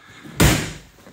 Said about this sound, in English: that was the door slamming shut as I went by and hit it with my arm